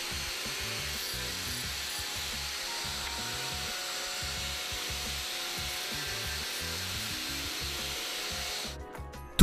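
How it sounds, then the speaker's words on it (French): Freshly cut metal pieces being deburred with a hand tool, steady rhythmic scraping and rasping strokes repeating close by for several seconds before a sharp clatter at the end. "tout ce qui a été découpé doit encore être ébarbé"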